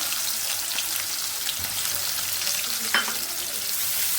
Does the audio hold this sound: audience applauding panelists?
no